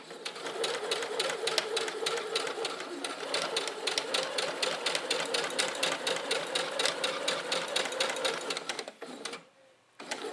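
A sewing machine runs steadily for about nine seconds, rapid stitching clatter throughout as fabric is guided around curves and corners, stopping near the end before a brief restart.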